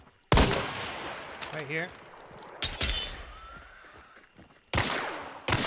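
Gunfire in Hunt: Showdown, with several loud, sharp broadband shots in separate bursts, some ringing decay and clinks between them, while a player talks over the action.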